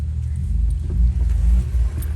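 A Honda Civic Type R FN2 in for a remap idles close by in a workshop doorway, a steady low engine rumble with slight fluctuations and no talk.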